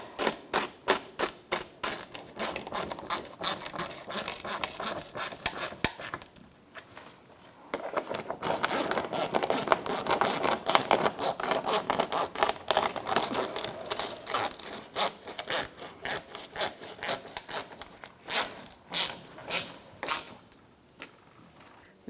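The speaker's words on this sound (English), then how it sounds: "Using an 8mm socket. I'm going to tighten these up." A ratchet with an 8mm socket tightens bolts on the alternator of a 2005-2010 Chrysler 300 5.7L V8, giving long runs of fast, close clicking that pause briefly and start again, with no voices.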